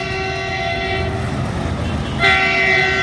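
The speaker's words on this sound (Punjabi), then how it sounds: "ਰੇਲ ਗੱਡੀ ਬੜਾ ਹੌਰਨ ਮਾਰਦੀ ਯਾਰ" A loud train horn blares in long sustained tones over the steady rumble of a train rolling past, with a brief swell near the end.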